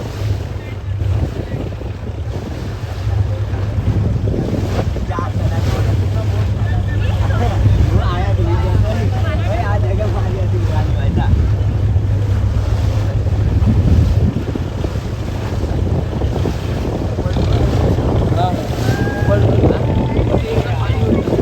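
A boat rocks up and down on the sea during a Ganpati immersion off Worli Koliwada, a loud steady engine drone mixed with wind buffeting and wave wash, with people talking over it.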